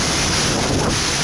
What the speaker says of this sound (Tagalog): Hangin tsaka ulan.